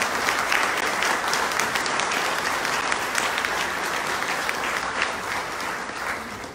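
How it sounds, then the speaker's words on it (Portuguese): Dense, sustained audience applause fills a hall for the speakers at a talk on Allan Kardec and José María Fernández Colavida, steady and loud throughout with no one speaking over it. "Demos un aplauso a nuestros expositores, por favor"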